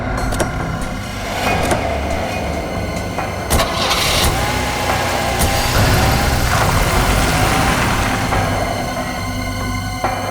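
A car engine cranks and catches, then runs at a steady idle with a few revs, heard loud and close for about ten seconds, with some sharp knocks and clicks and no voices.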